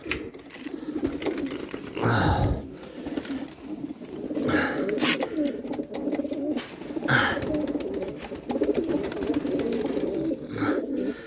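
Many Janssen racing pigeons coo in low, throaty rolls, overlapping continuously close by, with occasional wing flutters, in a large loft of nearly a thousand birds.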